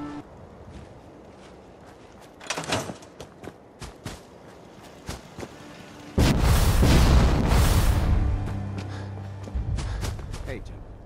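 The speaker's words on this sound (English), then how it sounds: "As soon as you get some artillery built, we'll do a test fire to calibrate it." Minutemen artillery test fire in Fallout 4 sounds as a heavy, sustained booming blast after a scatter of smaller thuds and footsteps, loud and rolling before fading out.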